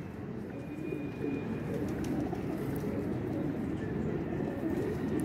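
A female Teddy pigeon coos softly over a steady low background hum, its calls faint and repeated through the stretch with no talking.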